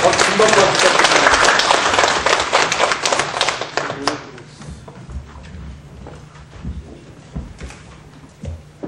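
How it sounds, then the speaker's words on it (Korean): An audience at a lecture forum claps loudly and steadily, dense applause that thins out into scattered claps and fades over several seconds. "박수 한 번 부탁드립니다"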